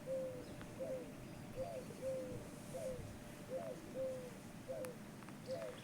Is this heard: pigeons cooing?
yes